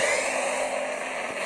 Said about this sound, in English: Auto combat starting warp engine.